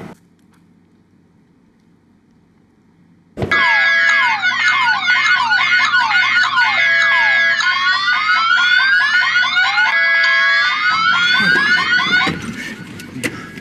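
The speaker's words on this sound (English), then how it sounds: "The alarm's still going off." A car alarm suddenly blares after near silence, cycling loudly through warbling, siren-like electronic tones for several seconds before cutting off.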